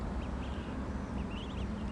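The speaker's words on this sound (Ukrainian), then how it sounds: "Дивіться, які каченята." Ducklings quacking in short high peeps, several scattered calls over a steady outdoor background noise, no talking.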